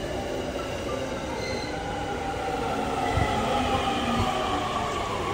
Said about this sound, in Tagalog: Ang haba naman ng train na to.